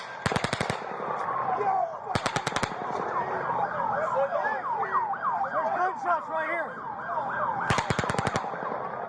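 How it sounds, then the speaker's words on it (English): Three short bursts of rapid gunfire crack out during the Las Vegas mass shooting, at the start, around two seconds, and near the end, over a steady wailing siren in the background. "there's gunshots coming from over there!"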